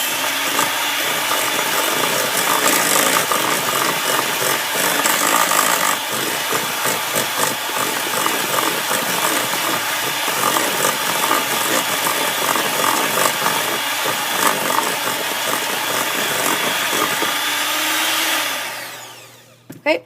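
An electric mixer churns chocolate chip cookie dough with eggs, a steady loud motor whir with scraping and knocking of the beaters that runs unbroken for many seconds, then winds down and stops.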